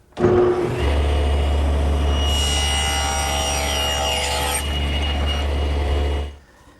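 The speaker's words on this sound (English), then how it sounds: "I've made an adjustment to the tenoning jig, moving it slightly this way so that I can make the cheek cut on the other side of the tenon" A saw cuts the cheek of a wooden tenon held in a tenoning jig, a loud steady machine drone with a low hum and a rasping cutting noise that runs for several seconds before stopping.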